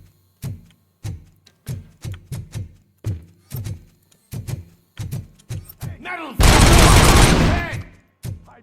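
Gunfire in the video game Robocop: Rogue City comes as a run of sharp, evenly spaced loud shots, then a dense roaring burst of sustained fire before a final shot.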